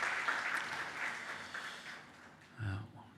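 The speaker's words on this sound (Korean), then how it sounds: "우리 감사의 마음으로 다시 한번 박수로 마음을 전하겠습니다." Church congregation applauding visiting musicians after worship music at a Sunday service, a dense patter of clapping in a reverberant hall that swells, thins and flares again briefly near the end.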